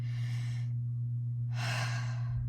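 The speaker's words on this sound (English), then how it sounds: "I've just been taking one really big deep breath" One big, slow, deep breath: a long airy inhale and, after a short pause, a fuller exhale, close to the microphone over a steady low electrical hum, with no talking.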